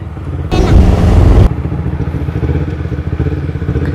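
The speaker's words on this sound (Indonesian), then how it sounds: "Bagaimana perasaannya, Maher, naik motor pi Pangkep?" A carbureted Kawasaki Ninja 250cc motorcycle engine roars loudly for about a second, then settles into a steady, rumbling putter as the bike rides on.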